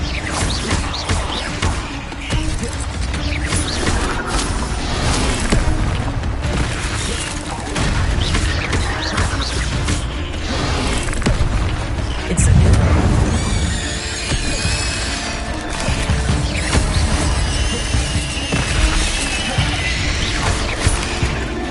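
Incendio fire spell cast in Hogwarts Legacy amid a busy fight, loud continuous crashes, bursts and booming impacts with a heavier blast near the middle, layered over game effects.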